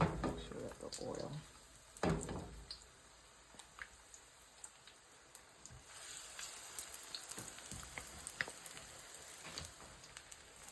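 Saltfish fritters fry in hot oil with a faint, steady sizzle and scattered crackles, louder at first as batter goes in, while a person talks nearby.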